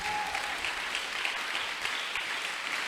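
A church congregation at a Sunday service claps steadily in unison, a dense, even burst of applause filling the room with no speech over it.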